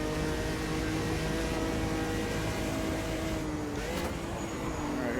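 Brazilian Stock Car engine in a racing video game, droning loud and steady at high revs with a whining harmonic tone that shifts pitch slightly as the throttle is worked through a drifting corner, no voices over it.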